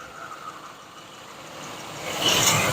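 A Lincoln Mark VIII engine idles with a steady hissing, ticking rumble from an exhaust leak, heard close and growing slightly louder toward the end.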